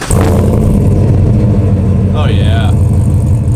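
A truck engine with straight single 3.5-inch piping back from the headers and a Borla XR1 exhaust rumbles loud and close, rising slightly, while a voice speaks briefly and a squeak is heard.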